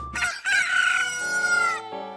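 A cucco chicken from the game Majora's Mask crows a loud, close, drawn-out cock-a-doodle-doo, preceded by a short cluck and ending in a trailing note, with no talk over it.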